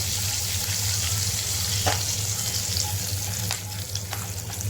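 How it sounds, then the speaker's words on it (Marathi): Asafoetida, ajwain and curry leaves with cumin frying on a low flame in a pan for an arbi curry, a continuous close sizzle with a low hum beneath and a few sharp stirring clicks, no talk. "हिंग ओवा आणि कढीपत्ता हे टाकून घेणार आहे त्याला थोडंसं मंद आचेवर आपण फिरवून घेऊया"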